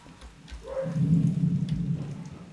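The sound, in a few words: thunder in the train video game Derail Valley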